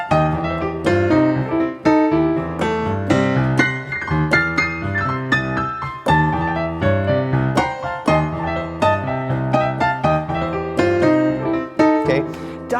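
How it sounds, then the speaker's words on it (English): New Orleans blues piano played with rapid right-hand rolls and tremolo runs over a rolling bass line, loud and continuous with no talking. "This is the sound of blues rolls."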